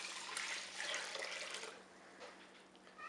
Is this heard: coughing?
no